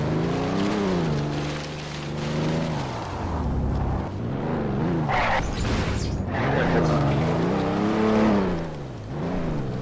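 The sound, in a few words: car driving in Garry's Mod video game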